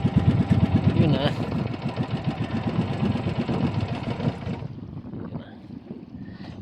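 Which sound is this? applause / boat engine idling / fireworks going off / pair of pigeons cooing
boat engine idling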